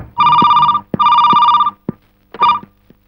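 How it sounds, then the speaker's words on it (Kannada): An old-style telephone bell rings in two long bursts and a shorter third one, loud and close, with a few sharp knocks between the rings. "ಫೋನ್ ಬಂತು ನೋಡಿ."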